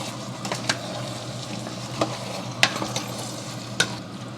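A spoon works through onions and oxtail seasoned with salt and black pepper in a pot for Roman braised oxtail, giving irregular scraping clicks over a steady close sizzle, with no talking.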